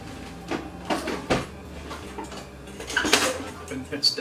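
A small lid is set onto a jar while hot preserves are being put up in a kitchen, giving a few close glassy and metallic clinks and clatters, with muffled voices at times.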